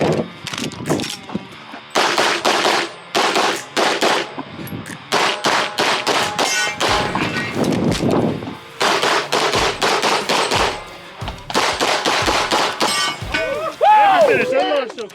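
A Masterpiece Arms DS9 pistol set up for IDPA and USPSA fires loud, rapid strings of shots separated by short pauses, with metallic clangs and ringing in between.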